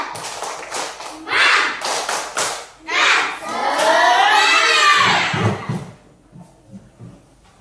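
A class of pupils in a school lesson does a rhythmic spirit clap, loud bursts of clapping and group chanting in quick patterns, ending with a few scattered claps.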